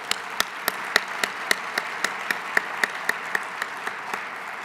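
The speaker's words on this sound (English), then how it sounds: "if you just join me in a round of applause for all their hard work this year" Audience applause rounds off the annual conference session at the TRB Annual Meeting, a steady wash of many hands with distinct individual claps ticking through it at a fairly even pace, moderately loud and without any talk.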